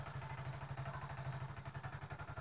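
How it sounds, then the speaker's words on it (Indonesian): A motorcycle engine idles after being started, on a bike that runs but whose rear wheel will not turn; a quiet, even low putter with a fast steady pulse, close by and without talk. "Ini sudah hidup ya mesinnya ya bro."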